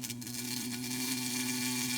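A swarm of honeybees from a disturbed hive buzzes loudly and continuously, a dense steady drone close by with no talk over it.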